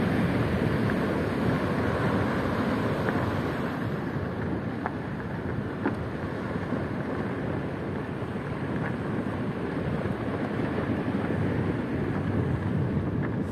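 Waves at Playa del Castillo beach in Puerto de la Cruz, Tenerife, make a steady, loud wash of surf with a continuous roar that barely changes, and wind noise on the microphone, with no voices.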